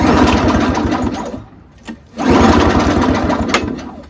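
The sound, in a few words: pull-starting a Craftsman Tecumseh 5HP snowblower engine, spark plug out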